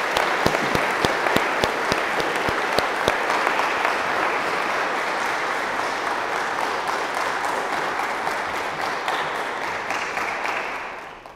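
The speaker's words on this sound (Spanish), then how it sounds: "La vamos a despedir con un fuerte aplauso." A quinceañera crowd gives a loud round of applause, several sharp nearby claps standing out at first before the clapping settles into a dense, steady wash that fades away at the end.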